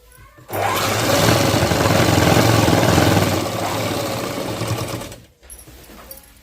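Sewing machine stitching a long frock made from saree cloth, a steady buzzing whir running continuously for about five seconds before stopping abruptly, loud and close.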